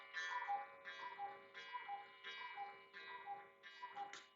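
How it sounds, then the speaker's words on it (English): An indoor cuckoo clock sounds a faint, regular series of resonant, ringing ticks about every 0.7 seconds, each with a lingering metallic tone, with no voices over it. "there's the cuckoo clock"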